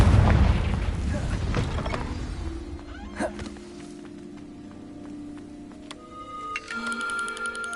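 A Confringo blasting curse explosion in Hogwarts Legacy, a broad rumbling burst that fades over a couple of seconds, followed by a sharp crack and then quieter magical tonal shimmers and chimes.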